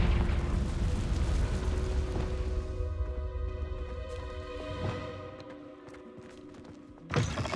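A Confringo fire spell detonates in Hogwarts Legacy as a loud, rumbling blast that decays over several seconds into ringing magical tones, with a sharp burst near the end.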